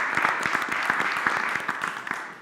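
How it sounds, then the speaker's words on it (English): An audience claps steadily for a children's choir and vocal ensemble at a live arts show, a dense and even round of applause with no talking. "Another round of applause for them."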